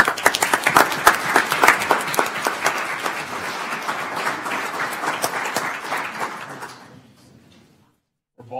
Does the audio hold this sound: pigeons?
no